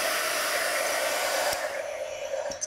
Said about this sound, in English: I'm going to hit it with my heat tool to dry it off a little bit